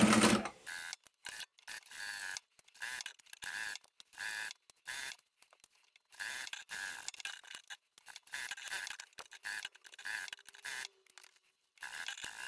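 A sewing machine stitching a quilted table runner, close and fairly quiet, running in repeated short bursts of rapid mechanical whirring broken by brief pauses, with no talking.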